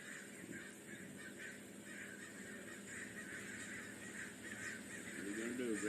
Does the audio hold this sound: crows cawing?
yes